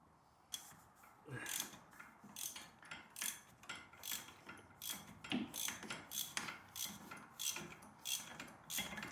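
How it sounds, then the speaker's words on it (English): A 21 mm ratcheting wrench tightens a control arm bolt on a C5 Corvette during a Mini Mantis angle kit install. Quick, steady ratchet clicks repeat in bursts, close up and fairly quiet, with no talking. "we're gonna take our 21 wrench, and then we're just gonna put this on the top, hold it there, and then wrench it down"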